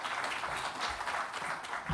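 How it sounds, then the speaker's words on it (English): Audience applause at a human factors in risk management conference, a steady wash of many hands clapping at moderate distance, continuous and fairly faint, with no voices over it. "also a round of applause for Vincent"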